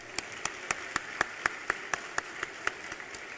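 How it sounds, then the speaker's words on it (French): Steady, evenly spaced hand claps at an opening ceremony of a Guadeloupe cycling tour, welcoming a cycling team. The claps are sharp, rhythmic and fairly faint, with no other sound around them. "Je vais vous demander, s'il vous plaît, de les applaudir très,"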